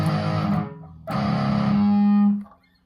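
Distorted electric guitar plays a chorus: a brief chord, then a second strike sustained for about a second before cutting off, loud and alone.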